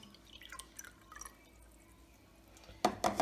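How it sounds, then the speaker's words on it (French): Water, 100 ml, poured into a glass, starting with faint scattered drips and then a short burst of splashing pours near the end, quiet and close. "Je vais verser les 100 ml d'eau dans le verre."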